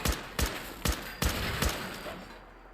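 Turret gunfire in the video game Fallout 4: five sharp, loud bursts spaced about half a second apart, each with a decaying tail, fading into a quieter close.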